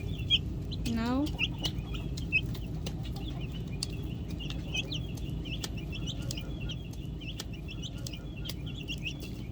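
Hens cluck softly and repeatedly around baby chicks on a farm, with one rising rooster-like call near the start and many short high peeps scattered throughout at moderate distance.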